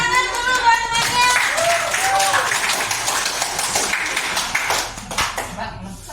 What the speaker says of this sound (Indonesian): beri aplaus tangan dulu buat temannya